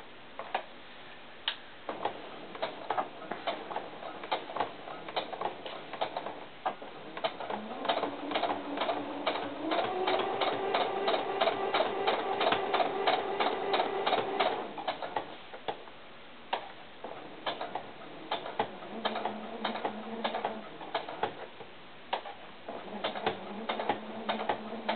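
A sewing machine runs top stitching on doll tennis shoes, a quick close ticking that swells into a steady run in the middle and then drops back to short bursts.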